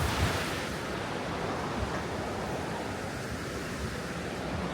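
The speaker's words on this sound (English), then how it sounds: "it is mountain river" A mountain river near Chillon Castle rushes in a broad, continuous roar, steady and full from start to finish with no voices.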